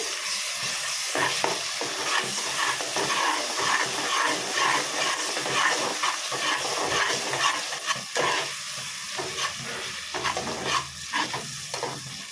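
Masala for mutton curry stirred in a pan, with steady close sizzling and a rhythmic run of scraping strokes throughout.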